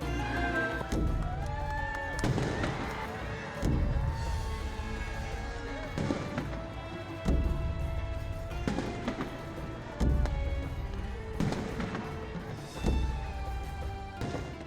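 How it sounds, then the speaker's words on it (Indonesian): Deep booming bedug drum strikes and heavy cannon thuds repeat at irregular intervals through a continuous crowd and musical din at Alun-alun Kauman, Semarang, marking the start of Ramadan. "Suara beduk dan meriam telah terdengar."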